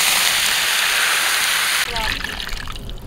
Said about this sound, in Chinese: 倒入开水